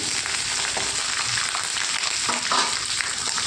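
Green chilies and peanuts fry in hot oil in a pan with a steady, close sizzle and faint crackles, with no talking.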